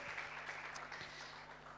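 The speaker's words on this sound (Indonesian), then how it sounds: "silakan tepuk tangan untuk teman-teman kita." Applause from a church youth service congregation, a short burst of steady clapping throughout the room, moderately loud and continuous.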